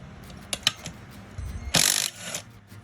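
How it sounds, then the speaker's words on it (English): A 12mm socket ratchet works loose the alternator bracket bolts on a 2009-2015 Toyota Venza V6, giving close, sharp ratcheting clicks in short bursts, with one longer, louder run of rapid clicking near the end. "using a 12 socket, we're going to take this bracket off."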